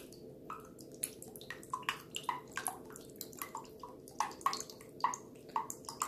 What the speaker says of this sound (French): je viens d'ouvrir ma noix de coco et je vais verser le jus